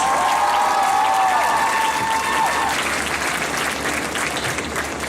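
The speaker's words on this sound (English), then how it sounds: "Please give her a big round of applause" University convocation audience applauds the valedictorian, a thick wash of steady clapping that sounds from start to finish, with a brief tonal whine over it early on.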